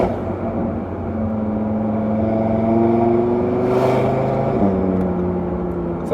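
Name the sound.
Audi RS3 engine exhaust in loud individual mode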